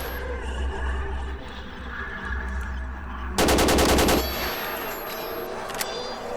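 Automatic gunfire in the S.T.A.L.K.E.R. Shadow of Chernobyl game with the OGSE mod, a loud rapid burst of rounds lasting under a second amid a low background rumble.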